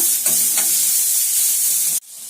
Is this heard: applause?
no